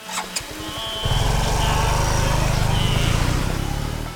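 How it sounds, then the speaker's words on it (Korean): On a rainy day, a motorcycle engine revs up after a couple of brief clicks and then drones steadily and loudly, close by. "위험하게 오토바이를 모는 한 남자"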